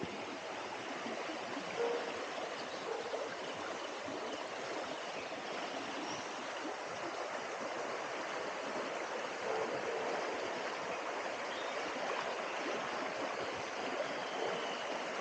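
A shallow stream in Kerala flows steadily with an even, continuous rushing of water, fairly soft and uninterrupted, with no voices.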